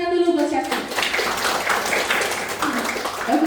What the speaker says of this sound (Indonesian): Tepuk tangan dulu buat Septi.